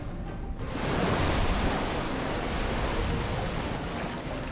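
Steady rushing water surge in The Unfinished Swan, a broad continuous wash like surf that swells in after a brief quiet opening and holds at a constant, fairly loud level throughout.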